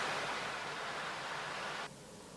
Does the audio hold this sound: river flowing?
yes